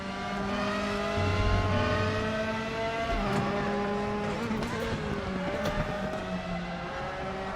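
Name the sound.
racing car engine in a video game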